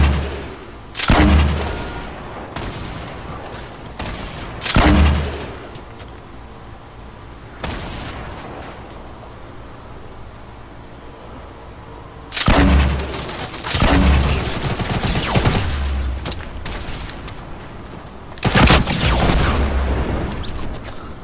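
Grenades going off in a shooter game, heard as a string of loud, close, booming blasts in irregular clusters, with quieter rumbling gaps between them.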